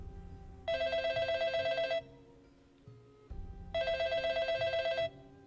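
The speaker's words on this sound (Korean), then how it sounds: "복도에서 전화기가 울렸다." A telephone rings in a hallway with two distinct bursts of a bright, rapidly trilling electronic bell, each lasting just over a second, separated by a pause with faint low background sound and no talk.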